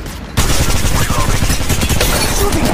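Sustained automatic gunfire in the mobile shooter Apex Legends Mobile, a loud dense rattle of rapid shots that bursts in after a brief quiet start and continues without a break.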